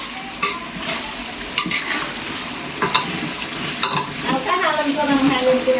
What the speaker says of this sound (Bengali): এই হচ্ছে আমাদের আজকের বিরিয়ানি রান্না চলতেছে।